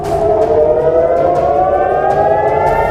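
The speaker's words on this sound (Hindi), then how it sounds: "रविवार तड़के 6:30 बजे इजराइल में सायरन बजने लगे" A civil defense air raid siren in Israel wails steadily and loudly at dawn, its rising tone sustained for the whole stretch with no voices.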